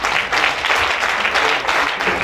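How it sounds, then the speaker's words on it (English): A church congregation clapping hands together, dense rapid applause-like clapping from many people, loud and continuous with slight surges in intensity. "Just clap hands for the anointing of the Lord."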